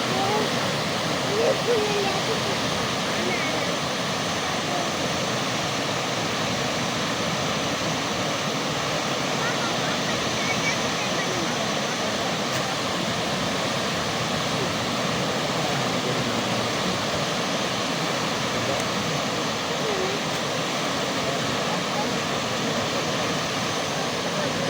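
Floodwater surges down the Soan River as a loud, steady, broadband roar that never lets up, with faint voices murmuring beneath the rushing flow.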